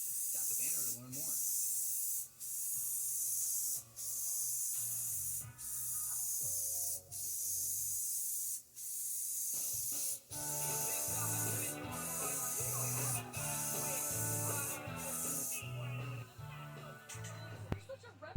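Spray gun laying another coat of primer onto a car hood: a steady close hiss in repeated bursts of a second or two, separated by brief breaks, with tonal sounds running underneath throughout.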